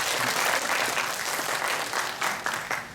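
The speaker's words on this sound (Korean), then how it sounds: "그것도 시험에서 이긴 거 박수 한번 쳐주세요." A church congregation, here a youth group at a Sunday service, claps together in a loud, steady burst of applause lasting a few seconds, close and continuous with no talk over it.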